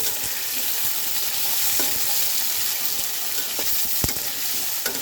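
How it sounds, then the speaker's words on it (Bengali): New potatoes frying lightly in a pan, a steady broadband sizzle throughout with a few sharper crackles and stirring clicks, close and continuous with no talk. "তো চলো আলুগুলো একটু সুন্দর হালকা ভেজে নেই এটা কিন্তু নতুন আলু"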